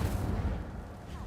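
A fire spell cast in Hogwarts Legacy lands as a short, deep boom that rumbles loudly and fades within about a second, with no voices over it.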